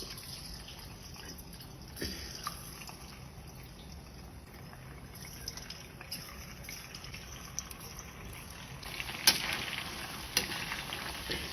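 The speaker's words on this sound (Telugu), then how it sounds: "ఇప్పుడు ఈ ఆయిల్ వేసుకొని ఫ్రై చేసుకోవాలి." Prawns fry in hot oil in a small iron kadai, a steady soft sizzle running throughout with a few faint clicks and louder crackles near the end.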